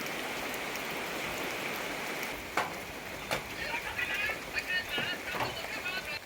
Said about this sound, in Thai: ตอนนี้ฝนตกแห้งขนาดเลยพี่น้อง